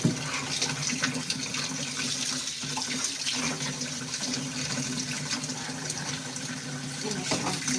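Water runs steadily from a kitchen sink tap as dishes are rinsed beneath it, a continuous close splashing hiss with faint clinks and no talking.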